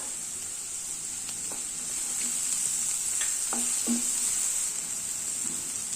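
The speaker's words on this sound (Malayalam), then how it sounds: "ഇതൊന്ന് വഴറ്റി കൊടുക്കണം. ഈ സവാളയൊക്കെ ചെറുതായിട്ടൊന്ന് വഴണ്ട് വന്നിട്ടുണ്ട്." Chopped onions and green chilies sautéing in oil for a vegetable samosa filling: a steady bright sizzle with a few light scrapes and taps of the spoon against the pan, close and even, with no talk.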